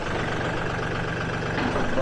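A tractor engine idles in a steady, continuous rumble close by, with a voice speaking over it.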